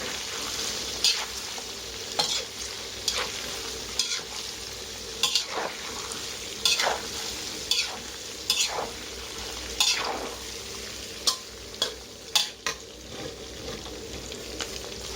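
Pork cracklings frying in oil as they are stirred, a continuous bubbling sizzle broken by repeated sharp scraping strokes every second or so, close and fairly loud, with no voices.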